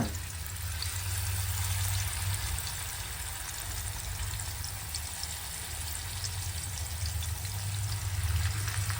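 Ayila mackerel seasoned with only dried chilli and salt frying in oil on a dosa griddle, a steady, dense sizzle running evenly and fairly close throughout, with no voices.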